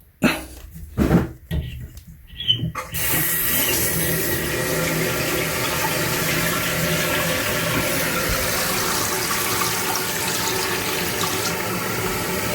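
After a few clicks and knocks, a toilet tank starts refilling once its water supply is turned on, settling into a steady, fairly loud rushing hiss of water that runs on without talk.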